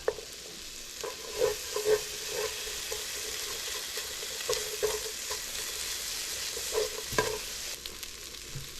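Butter sizzles steadily in a pan at the start of a chicken and sausage gumbo, with a constant frying hiss punctuated by several soft scrapes and taps of a spoon stirring, close and moderately loud with no talking.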